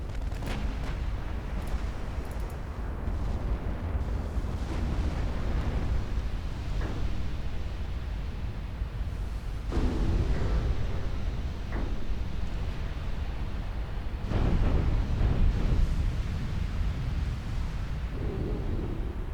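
Naval main gun shells hitting and exploding in a 1960s Norwegian campaign naval wargame: a steady roar of battle noise broken by repeated heavy booming impacts and rumbling blasts, with louder surges partway through and late on.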